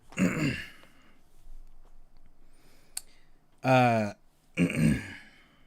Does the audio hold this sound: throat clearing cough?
yes